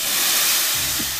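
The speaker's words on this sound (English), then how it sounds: "So the boa constrictor, it makes a hissing sound." A continuous, airy hiss from a boa constrictor snake, close and even in loudness for about a second, heard alone.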